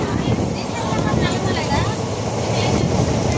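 A train pulling into Donakonda railway station on a Tirupati Express run, a loud steady rumble of wheels and carriages close by, with a voice speaking over it.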